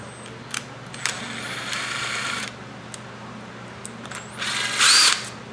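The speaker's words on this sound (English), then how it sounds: "you're going to want to remove the 3 carburetor bowl screws on the bottom" Power screwdriver or drill backing out the three bowl screws on the bottom of a GY6 scooter carburetor, in short whirring bursts with a louder final run near the end, alone over a steady low hum.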